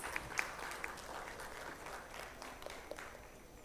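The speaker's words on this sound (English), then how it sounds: "Please give a huge round of applause" Applause from an audience welcoming a speaker to the stage at a gathering, a steady wash of clapping heard from some distance at moderate loudness, with a few sharper claps standing out near the start.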